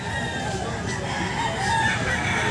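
Several roosters and chickens crow and cluck amid a dense, noisy outdoor din at a grotto market, steady and fairly loud throughout.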